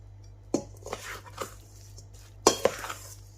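Spoon clinks and scrapes against a bowl while masala paste and tomato paste are mixed into raw chicken, a few sharp knocks among softer stirring sounds, close and alone.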